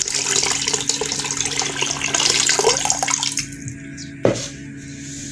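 Water pours in a steady splashing stream into a cooking pot for a few seconds, then stops; a sharp clunk follows in the quieter room.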